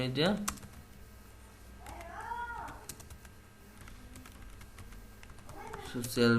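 Keys click on a computer keyboard while a Fiverr freelancing profile is filled in, a scattered run of light taps at steady volume, with a voice talking at the start and end.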